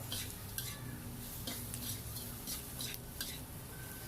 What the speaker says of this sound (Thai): ทำการผัดคลุกคละเคล้า ก็ใช้ไฟอ่อน ๆ นะครับ